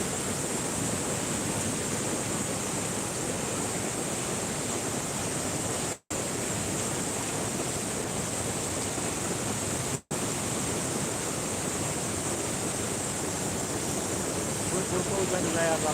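Steady broadband rushing of a fast-flowing river rising after heavy rain, continuous and loud throughout, with two brief dropouts.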